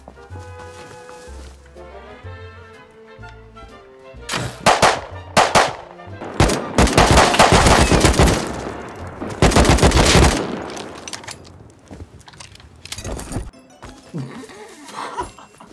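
Gunfire in the survival game Rust: loud bursts of rapid shots and booms cluster in the middle, with quieter shooting and a musical backdrop around them.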